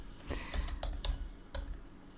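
Soft keystrokes on a computer keyboard as a short name is typed, a few scattered quiet clicks spaced irregularly, with no talking.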